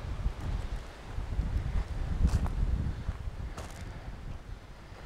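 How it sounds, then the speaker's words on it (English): Gusty wind in an Italian garden in Chianti, Tuscany, rumbles low and steadily against the microphone for several seconds, with faint rustling and a couple of soft knocks. "I'm sorry if we're going to get a bit of wind now."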